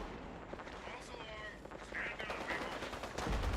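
Rapid weapon fire against enemies in the video game Fallout 76, with bursts of shots running through the clip and getting louder toward the end, mixed with game effects and voices.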